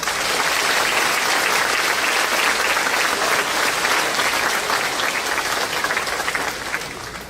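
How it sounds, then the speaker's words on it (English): Audience applause for staff at a high school graduation ceremony, a sustained, full crowd clapping at steady volume that tapers off slightly near the end. "So please give them a big round of applause."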